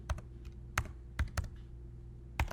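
Computer keyboard typing with a few isolated key clicks spread across the moment, close and fairly quiet over a low steady hum, no talking.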